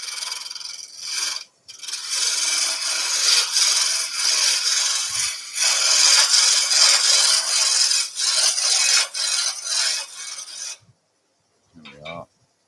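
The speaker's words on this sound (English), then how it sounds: "if I just use the roughing gouge to get down close" A roughing gouge rasps continuously against spinning wood on a lathe while turning a salt and pepper grinder blank, a steady close scraping with brief pauses, ending in near silence with a faint knock.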